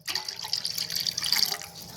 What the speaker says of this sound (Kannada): ಈಗ ನಾನು ಎಷ್ಟು ಬೇಕಷ್ಟ ನೀರು ಹಾಕ್ತಾ ಇದ್ದೀನಿ ನೋಡಿ